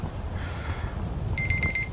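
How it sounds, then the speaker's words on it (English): An alarm in the Skyrim video game rings as a rapid series of bright electronic beeps over a low rumbling game background, starting partway through. "And obviously I reset the alarm"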